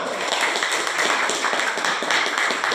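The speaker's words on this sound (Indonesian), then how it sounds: "beri tepuk tangan bagi kita semua" Participants at a scout council training session applaud together in a dense, steady wash of clapping, moderately loud and sustained with no talk over it.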